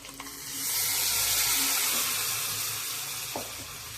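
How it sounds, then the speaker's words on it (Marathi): Water runs steadily into a container as it is rinsed out in a home kitchen, a close, loud rushing splash lasting a few seconds with no voices. "छानपैकी असं धुवून घेणार आहोत."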